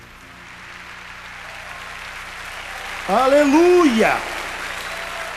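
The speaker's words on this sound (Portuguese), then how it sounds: "Dê uma salva de palmas para Jesus." A congregation applauds at a revival conference in Louisiana, the clapping swelling steadily before a loud shouting voice cuts in over it for about a second.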